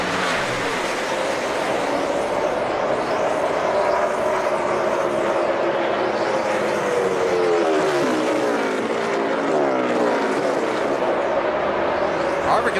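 NASCAR stock cars racing at Pocono on the final lap, a loud continuous engine roar with rising and falling pitch as cars pass, under a crowd wash and commentary.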